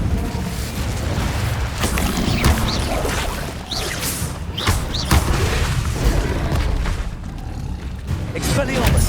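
Incendio fire spells are cast repeatedly in Hogwarts Legacy, producing bursts of whooshing flame and booming impacts amid continuous combat noise, with a voice speaking over them.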